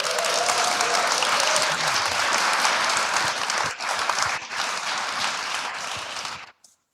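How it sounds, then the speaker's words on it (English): An audience at a live climate-action event bursts into loud, full applause that holds steady for several seconds, briefly dips, then continues before cutting off abruptly. "Can we give them a quick round of applause?"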